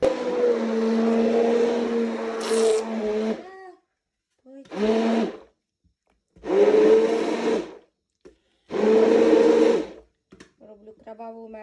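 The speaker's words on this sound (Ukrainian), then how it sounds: "Це блендуємо." Strawberries being blended for jam with an electric blender, which whirs in several bursts that start and stop, separated by short pauses.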